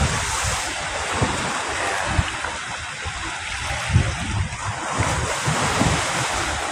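Large waves pound the shore of Manila Bay in a loud, steady wash of surf mixed with heavy wind buffeting the microphone, with repeated crashing surges and no talk.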